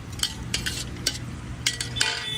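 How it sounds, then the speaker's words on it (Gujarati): Vegetables, including freshly added tomato, being stirred in a pan for Navapura-style mung bean pulao, with repeated scraping, clinking utensil strokes over a soft steady sizzle, close and moderately loud. "હવે એને પ્રોપર તરીકે મિક્સ કરી લેવાશું"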